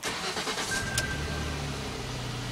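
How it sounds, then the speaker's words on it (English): Jaguar X-Type car engine cranking and catching, a brief starter burst settling into a steady mid-pitched idle, heard close with no talk. "So we'll just start her up."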